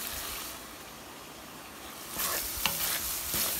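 Creamy boneless chicken handi stirred in a pot over the flame, a steady low sizzle that swells louder near the end with scraping spoon strokes and a sharp clink.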